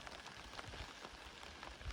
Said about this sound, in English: Drizzly and rainy again.